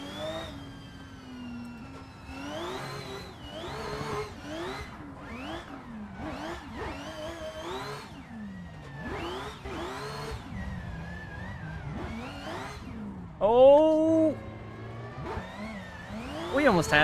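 Toyota GR Yaris engine in a sim racing game held at full throttle with a clutch kick while drifting on the Nürburgring, a steady rising and falling rev whine that sweeps repeatedly, loud and continuous, with a sharper burst near the end.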